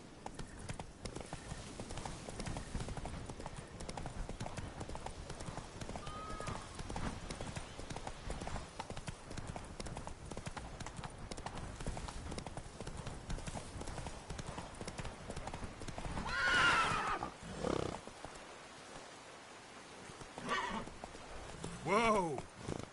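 Roach, a horse in The Witcher 3, galloping with rapid, steady clip-clop hoofbeats throughout, then slowing, with sharp neighs and snorts near the end; game speech is heard.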